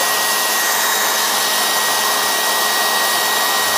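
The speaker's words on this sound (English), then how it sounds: "I'm going to go ahead and hit this with the hair dryer" A hair dryer blasts at full power over salt on a Pontiac Firebird 400's paint, a loud constant whoosh of air with a faint steady whine running through it.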